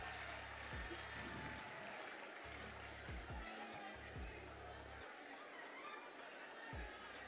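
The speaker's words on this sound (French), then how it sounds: "on raccompagne Miss Chimène sous des ovations," Ovation from the audience at the Miss Togo 2024 beauty pageant as a contestant leaves the stage: a broad wash of applause and crowd noise, with a low hum and a voice speaking over it.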